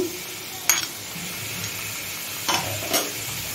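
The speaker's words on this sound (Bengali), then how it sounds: "রসুন পেস্ট, আদা আর কাঁচা লঙ্কা পেস্টটা দিয়ে দিচ্ছি।" Garlic, ginger and green chili paste frying in a pan, giving a steady close sizzle with a few sharp clinks of stirring against the pan.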